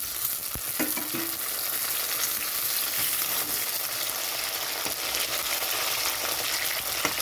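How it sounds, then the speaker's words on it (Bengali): Tomatoes fry in a pan over already-fried onion, garlic and chilli, part of making a prawn paste dish. A dense, even, close sizzle runs the whole time with occasional faint stirring scrapes and no voices. "টমেটো ভেজে নিতে হবে"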